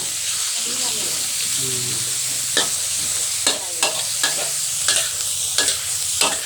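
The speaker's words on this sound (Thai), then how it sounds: "พัดหมูให้สุกนะ" Pork being stir-fried with garlic in a pan gives a steady sizzle broken by sharp spatula scrapes and clacks against the metal, with someone talking over the cooking.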